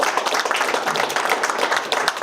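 Applause at a Dr. Martin Luther King Jr. Commission of Mid-Michigan event, a dense, steady patter of many hands clapping close by, filling the short stretch without a break.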